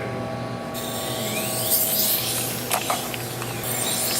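A rough-edged knife is held against a grit sharpening wheel, producing a steady, loud abrasive grinding hiss with a constant motor hum and brief scraping flares.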